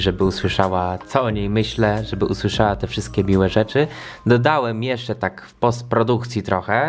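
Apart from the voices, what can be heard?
No distinct noise like a dog, phone or traffic.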